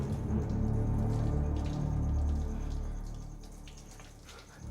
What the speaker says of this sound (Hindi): पानी के बहने की आवाज है।